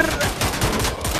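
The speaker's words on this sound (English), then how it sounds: "Double handguns, baby." Dual handguns fire in rapid succession in the Wolfenstein video game, a dense burst of overlapping shots over roughly a second, loud and close.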